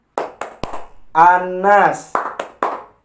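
In a classroom clapping game, sharp individual hand claps ring out in a rhythmic pattern, alternating with a voice speaking between them.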